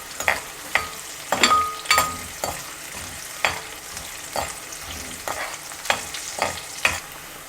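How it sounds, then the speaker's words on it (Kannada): Onions fry in oil in a pan with a soft sizzle, broken by repeated scraping stirs of a spoon at an irregular rhythm, close and alone without talk. "ಈಗ ಈರುಳ್ಳಿ ಚೆನ್ನಾಗಿ ಫ್ರೈ ಆಗಿದೆ."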